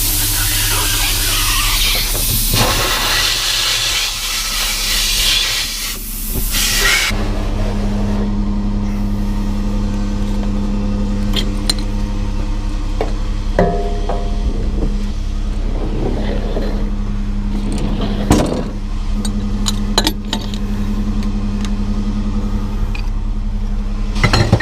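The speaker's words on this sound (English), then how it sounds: "I'll go shut this pump off and go strap it and finish the ticket" Truck-mounted pump running steadily, a loud close mechanical drone with a sustained hum; a harsh rushing burst at the start gives way to the constant engine tone with occasional clanks and knocks.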